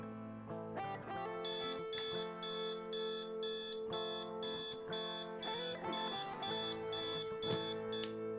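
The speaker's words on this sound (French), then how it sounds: "Le réveil programmé de Vincent remplit son office." Programmed alarm clock going off at 7 o'clock in the morning, a repeated electronic beeping pattern in rapid regular pulses over a sustained tonal backdrop, moderately loud and steady with no talk.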